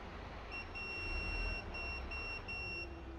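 Multimeter continuity beeper sounding as the test probes touch together, a series of thin high-pitched electronic tones broken by brief gaps, over a low background hum, with no talking.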